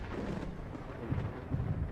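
Rolling thunder from a lightning storm in the Space Engineers video game, a low rumbling boom that swells and surges over two seconds, with no speech.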